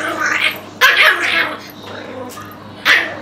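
A nearby dog gives a few sharp, loud barks and yips spaced across a few seconds, with quieter whimpering sounds between the bursts and no speech.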